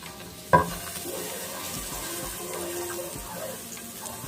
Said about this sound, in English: So the pot is heating up right now. It's a skillet pot. There is nothing in it.